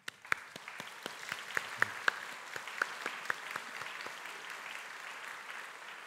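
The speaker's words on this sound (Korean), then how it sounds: "우리 잠깐 일어나시면 박수로 환영하겠습니다." A church congregation in Daegu applauds during a Sunday worship service to welcome new members, steady mid-distance clapping from many hands with a few sharper individual claps standing out, no talk over it.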